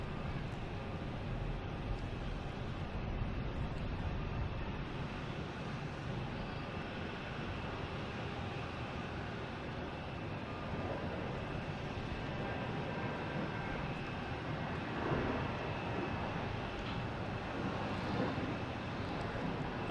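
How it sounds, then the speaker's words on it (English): A NetJets Cessna Citation Latitude business jet takes off at Boston Logan Airport, its engine roar a steady, broad, distant rush that holds evenly throughout with no voices. "NetJets Cessna Citation Latitude heading to somewhere"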